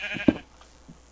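Several short sheep bleats from the video game Minecraft, close and fairly loud, with a couple of fainter calls between them.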